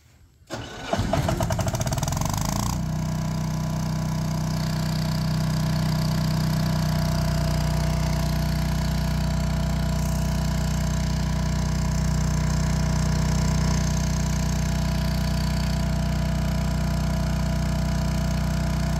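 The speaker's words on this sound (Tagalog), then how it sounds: "So ngayon, patayin na nga natin. Dapat mabuhay yung ating generator." PHILKING PK12000STRA fully automatic diesel generator cranks briefly, catches and settles into a steady, loud mid-pitched idle that runs on continuously, with no talking.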